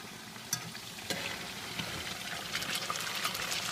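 Potatoes frying in an electric skillet, a steady dense sizzle and crackle with a few louder pops and stirring scrapes, close and continuous with no talk.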